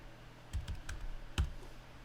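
Brief run of computer keyboard keystrokes, four quick clicks then a single sharper tap after a pause, close and clear against a quiet room hum.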